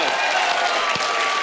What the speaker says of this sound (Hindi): इसके लिए भी तालियां बनती हैं।